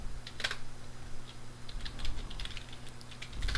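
A sudo command is tapped out on a computer keyboard, quick faint clicky keystrokes in short irregular bursts, close and without talk.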